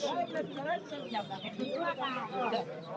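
At a Kamrangirchar duck and chicken market, chickens and roosters cluck steadily and close by, their calls overlapping, mixed with other noise from the busy poultry trade.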